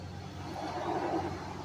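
Steady low rumble of road traffic with a car swelling past near a lake park, a smooth rise and fall in the middle, moderately quiet and with no voices.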